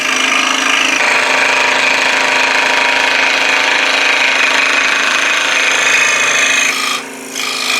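A scroll saw fitted with a double skip reverse blade cuts hard Purpleheart wood in a steady, loud, buzzing rasp that runs continuously for about seven seconds before easing off briefly near the end.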